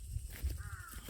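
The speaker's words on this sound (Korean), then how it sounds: "까마귀도 노래하고" A crow gives a single short caw, faint and distant, over low rumbling outdoor background noise at a rural spot where firewood is being split.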